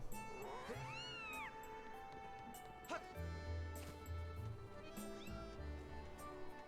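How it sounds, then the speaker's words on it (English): A cat meows a few times in rising, drawn-out cries over a quiet synthetic background, with a short low thump or two, in the video game The Legend of Zelda: Skyward Sword. "There's a cat."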